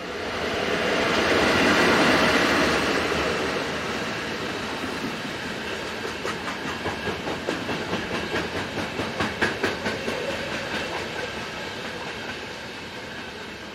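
Train 90565, the 18:33 postal service from Denderleeuw, rumbles past close by with a steady roar, then a run of rhythmic clickety-clack wheel beats over rail joints as it goes by.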